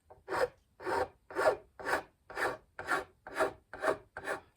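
A file rasps across metal fret ends on a cigar box guitar: nine steady, evenly paced strokes, close and fairly quiet, each a short gritty scrape with a pause between.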